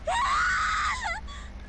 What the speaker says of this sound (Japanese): ものすごい悲鳴が響いた